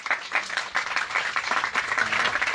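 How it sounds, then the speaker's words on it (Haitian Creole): A crowd applauding in a continuous, dense burst of clapping at moderate loudness, with no break and no voices standing out. "On applaudit bon Dieu tout le monde."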